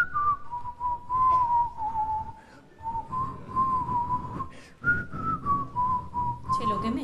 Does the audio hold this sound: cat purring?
no